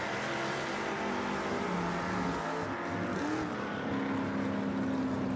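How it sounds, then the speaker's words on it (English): A 1966 Chevy II drag car at bracket races, its engine a dense, continuous roar heard from a distance, steady and loud throughout without talking. "Beautiful little 66 Chevy 2 over in the right lane there."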